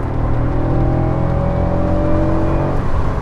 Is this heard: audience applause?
no